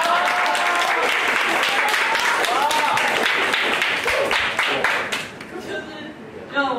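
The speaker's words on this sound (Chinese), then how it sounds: "我们先给他一个热烈的掌声" An audience at a panel talk bursts into warm, sustained applause, dense clapping that fills the room for several seconds before thinning out near the end.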